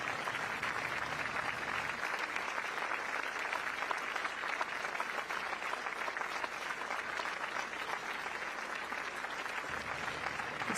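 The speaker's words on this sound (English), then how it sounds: "A round of applause now" Steady outdoor applause greets the incoming prime minister of Singapore arriving on the Istana grounds, a dense, even patter of many hands clapping continuously throughout with no voices.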